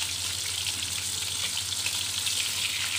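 Marinated milkfish (daing na bangus) frying in a pan of splattering oil, a steady loud sizzle with constant crackle throughout and no talking.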